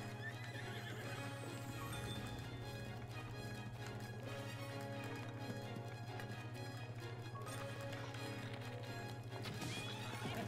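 A horse in The Legend of Zelda Breath of the Wild whinnies over the steady clip-clop of its hooves, set against constant game music at low level.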